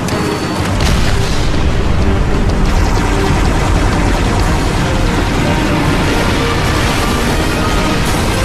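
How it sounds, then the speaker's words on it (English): A detonated pylon in the Halo video game explodes in a massive, sustained roaring blast, loud and dense, rumbling continuously for several seconds after a brief quiet onset. "Acquiring signal lock on the pylon. Detonating in 3,"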